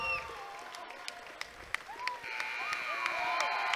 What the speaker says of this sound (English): The Richland crowd is on their feet cheering.